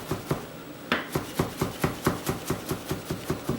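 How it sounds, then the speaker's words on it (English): A knife slices through food on a cutting board during chicken marsala prep, a close, steady train of crisp taps landing about five times a second, with a slightly louder stroke near the start. "I'm going to take them, run my knife through there again"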